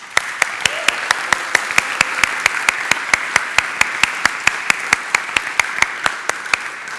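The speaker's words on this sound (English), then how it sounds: "please, a really big round of applause" A keynote conference audience gives a big round of applause, a steady roomful of clapping with one sharp, evenly timed clap repeating loudly up front throughout.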